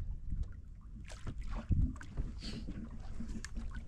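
Oars or paddles work a boat across calm, current-free water, producing soft intermittent splashes and dull knocks against a light wind rustle, close and fairly quiet.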